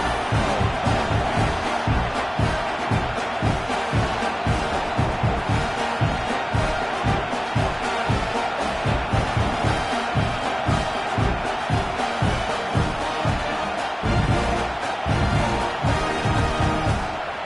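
A home stadium crowd at a Texas A&M football game cheering after a touchdown: a dense, loud roar of voices with rhythmic swells and shouts throughout, sustained without a break.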